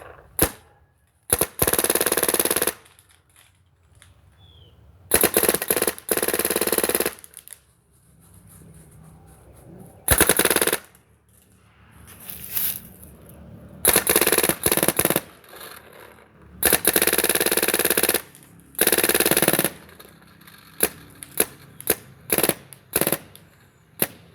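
Several bursts of rapid, crackling shots from a Smart Parts Ion paintball marker at about 18 balls per second, separated by short pauses with faint background noise.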